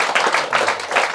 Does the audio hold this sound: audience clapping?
yes